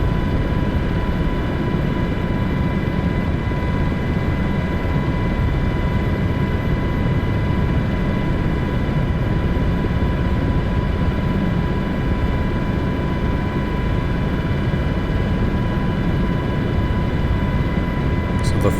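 A helicopter in a video game flies near the Giza pyramids, giving off a steady, unbroken droning rumble with a faint whine that holds at the same loudness throughout.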